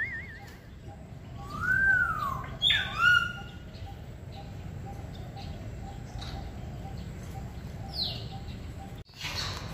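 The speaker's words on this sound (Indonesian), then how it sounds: "Burung kakak tua raja ini namanya teman-teman" Bird calls ring out from a cage of palm cockatoos, a few rising whistles and squawks over a steady outdoor hum, fairly distant and intermittent.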